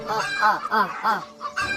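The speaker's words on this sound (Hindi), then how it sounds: "सभी की सभी मुर्गियाँ कुकड़ू कू करती हुई इधर उधर भागने लगती है।" Chickens cluck and squawk excitedly in quick, rising calls, with a crowing-like note among them. The sound is loud and close.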